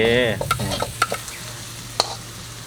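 Pork intestine stir-fried with holy basil in a pan makes loud scraping stirs and sizzling, with sharp spatula clinks against the metal over a constant low frying hiss; a voice is heard briefly at the start.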